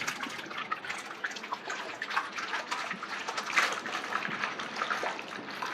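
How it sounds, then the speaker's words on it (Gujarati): Shampoo is stirred into a container of water to whip up bubbles, producing close, irregular sloshing and splashing with small drips, loosely rhythmic and without speech. "હવે થોડુંક આના હલાવી દઈએ."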